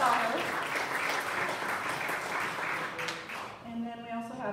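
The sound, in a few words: audience clapping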